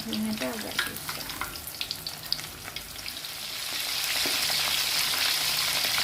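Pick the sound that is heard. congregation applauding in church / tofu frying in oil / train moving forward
tofu frying in oil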